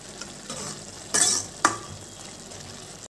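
Roasted vermicelli for semiya kesari stirred in a pan with hot liquid, a soft bubbling sizzle with a couple of louder scraping strokes and a sharp clatter at the end.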